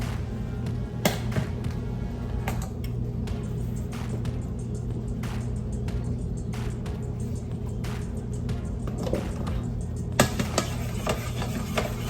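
Chicken alfredo with pasta and heavy cream, seasoned with salt, pepper and garlic, being mixed in a pan: steady scraping and stirring with sharp utensil clicks against the pan, a low hum running underneath.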